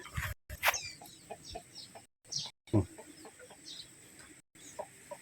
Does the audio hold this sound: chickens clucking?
yes